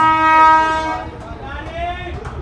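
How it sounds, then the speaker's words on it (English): A train horn blasts loudly with a sustained harmonic tone that fades after about a second, over the rumble of a passing train; heard during a cricket match commentary setting. "As the train rolls"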